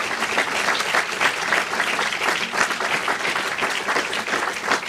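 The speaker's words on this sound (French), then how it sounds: "je voudrais encore une fois qu'on applaudisse l'ensemble des intervenants qui nous ont donné beaucoup de plaisir" A conference audience applauds the speakers after a talk on print books, with a sustained, fairly loud round of clapping from many hands that holds steady for several seconds.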